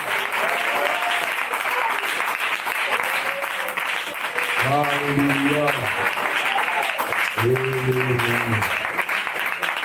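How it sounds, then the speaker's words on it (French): Congregation applause during a church service, steady broadband clapping throughout with sung or shouted voices rising over it in bursts and a voice calling out praise, loud and sustained. "Donnons-lui une raison d'acclamation."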